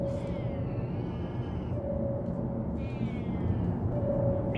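A cat meows in the game Barotrauma, long drawn-out harmonic calls repeating against a steady low rumble of machinery, loud and close.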